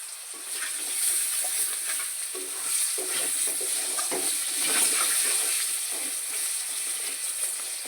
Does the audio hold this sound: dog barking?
no